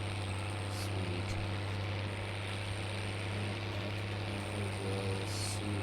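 Tractor engine running steadily while cutting hay on a farm, a continuous loud low drone with a strong steady hum throughout, no talk.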